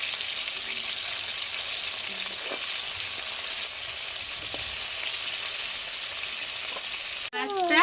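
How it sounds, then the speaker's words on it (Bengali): Rohu fish pieces fry in hot oil with a dense, steady sizzle that stays loud for several seconds, and a voice briefly breaks in at the very end. "মাছটা লাল লাল করে ভাজা হয়ে গেছে"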